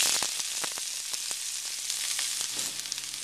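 Onions fry in hot oil for Sri Lankan sour fish curry, a loud, dense, close-up sizzle that hisses continuously with small crackling pops throughout.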